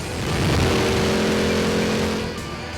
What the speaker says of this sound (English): it just feels like you're absolutely slingshot right by the other car.